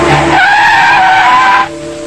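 A Skoda car brakes hard on a factory proving ground in a 1982 safety test, tyres squealing loudly in a sustained, wavering screech that cuts off abruptly near the end, leaving a quieter engine hum.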